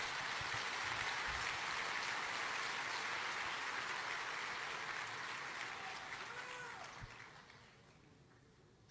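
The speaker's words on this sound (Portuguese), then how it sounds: "Se é para aplaudir, aplauda com vontade" A church congregation claps together in sustained, dense applause that holds steady for several seconds and then fades out near the end.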